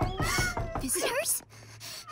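Cartoon cats meow in a quick run of high, bending cries amid animated character voices and music, loud and close, with talk around them.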